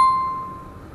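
A single notification bell ding rings out clearly, then its bright tone fades away over about a second, with no other sounds around it.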